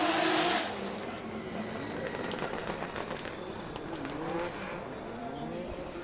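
A drift car runs at full throttle through a qualifying run at Formula Drift Japan, Okuibuki, with a loud, sustained engine roar and rising revs throughout, plus a brief hiss of tire noise at the start.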